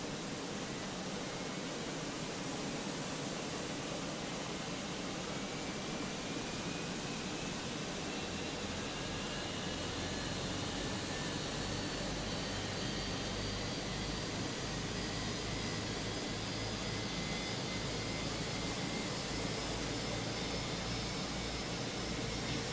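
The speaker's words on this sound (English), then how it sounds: "Starting engine number 1. We'll have a listen from the outside here." Airbus A320 jet engine starting in Microsoft Flight Simulator, heard from outside: a steady broadband roar with a faint rising whine building slowly over a long stretch, no talking.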